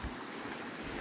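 Steady broadband rush of river water on a flood route along the Te Araroa Trail, continuous and fairly close, with wind buffeting the microphone and no voices.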